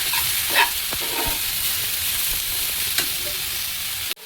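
Two medium tomatoes are stirred into a frying mixture for a spicy brinjal and potato curry, making a close, steady sizzle with a few scraping strokes of a spatula and a sharp knock at the end.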